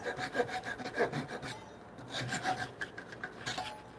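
A hand saw cuts through a timber-frame diagonal brace near the tenon, giving soft, rhythmic rasping strokes of the blade through wood, fairly quiet and close, with a short pause partway through.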